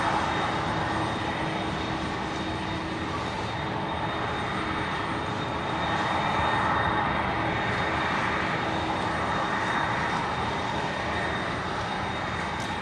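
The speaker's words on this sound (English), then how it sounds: "So this aircraft operated Qantas 51 from Singapore." A Qantas airliner at Brisbane International Airport produces a steady, distant engine roar and rumble that holds evenly throughout, with no voices over it.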